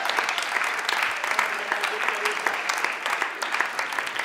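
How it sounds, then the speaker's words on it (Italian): Audience applause at a stand-up comedy show, a crowd clapping steadily and loudly for several seconds, dense and evenly sustained with a few sharper individual claps standing out. "Gli applausi sono gratis, si possono fare."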